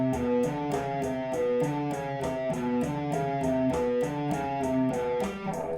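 Electric guitar playing a fast descending quintuplet picking exercise, with steady rapid groups of picked notes stepping downward in a repeating pattern, clear and up close.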